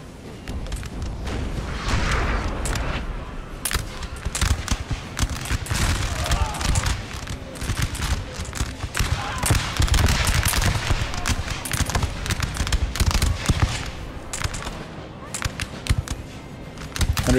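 Massed musket and rifle volleys crackle from line infantry in Napoleon: Total War, dense and continuous battle gunfire with booming shots, steady and loud throughout, with some talk over it.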